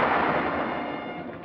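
Wartime artillery and gunfire from the 1945 Battle of San Pietro, a continuous dull rumble of distant firing with no clear separate reports.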